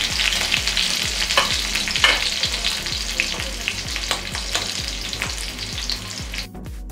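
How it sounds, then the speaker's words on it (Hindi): Chillies and garlic pieces sizzle steadily in hot oil with panch phoron for a raw mango chutney, a loud continuous frying hiss with rhythmic stirring scrapes and no talking. "पचफोरन डालने के बाद हम इसमें मिर्ची डालेंगे और लहसुन का टुकड़ा।"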